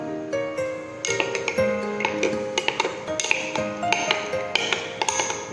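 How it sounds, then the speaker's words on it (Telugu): A metal spoon stirs CollagenX collagen powder into water in a glass, giving a run of close, bright clinks and taps against the glass in an uneven rhythm, with no voices. "స్పూన్ తీసుకుని"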